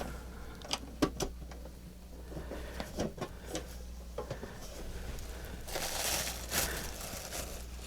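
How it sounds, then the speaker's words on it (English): Plastic bags and paper rustle and crinkle inside an Aladdin lunch box with Universal Monsters design, quiet irregular crackles and crumples close by, growing into a denser rustling burst near the end. "is a bunch of plastic bags and paper."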